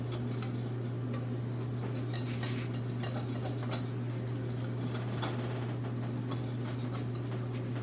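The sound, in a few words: whisking salt into banana bread batter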